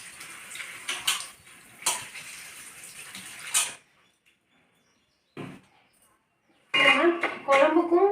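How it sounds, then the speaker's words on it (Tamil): Saranai keerai greens being washed in water, with splashing and sloshing in short bursts, a quiet pause, then more close water sounds. "இப்போ சுத்தம் பண்ணி எடுத்துக்கலாம் கழுவி"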